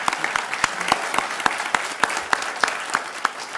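Audience applause during a debate at the Teatr Polski theatre in Warsaw: dense, energetic clapping with sharp, prominent individual claps punching through, sustained throughout at close range.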